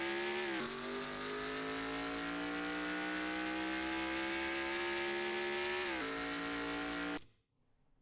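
A NASCAR race car engine drones loud and steady in a video game set at Las Vegas, its pitch climbing slowly and shifting twice before it cuts off abruptly into near silence.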